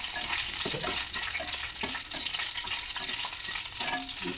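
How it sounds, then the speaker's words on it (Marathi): Whole black cardamom pods are dry-roasted in a pan, with scattered scraping and rattling clicks from stirring over a steady bright hiss, close and fairly loud, with no talking. "त्यानंतर ही मोठी इलायची तर ती घालून"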